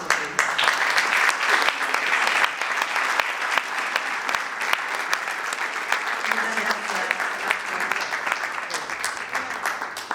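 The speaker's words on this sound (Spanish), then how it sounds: "renovamos el aplauso para los tres, para Kevin, para Maribel y para Mayra." Sustained applause from a large audience at a literary café event, loud and dense clapping that continues steadily throughout without a break.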